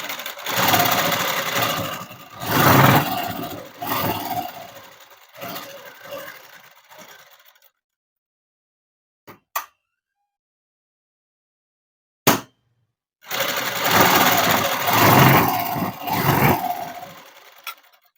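Sewing machine stitching a dress made from an old saree, running in two long loud bursts with a quiet pause between them and a couple of brief clicks in the gap.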